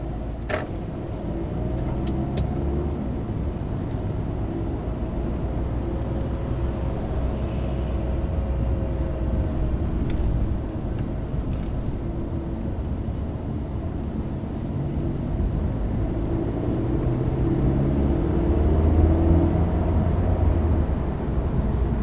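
A 2019 Mercedes A-Class compact sedan drives along, its cabin filled with a steady low road and engine rumble and wind hiss, with a few faint clicks near the start.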